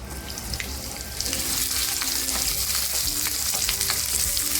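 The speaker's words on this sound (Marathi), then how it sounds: "कांदा भाजायला घेते तेल टाकून जो कांदा कापून घेतला होता तो कांदा टाकते" Sliced onion frying in hot oil in a pan, a steady close sizzle that grows louder after about a second and continues evenly with faint crackles throughout.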